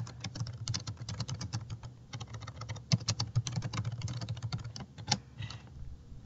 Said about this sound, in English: I would just type in my review